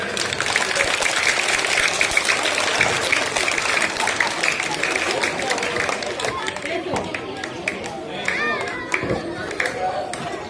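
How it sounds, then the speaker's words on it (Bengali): Audience clapping at a school retirement celebration, a dense, sustained round of applause with crowd chatter and voices mixed in throughout, easing slightly toward the end. "সবাই একটু হাততালি দেবেন।"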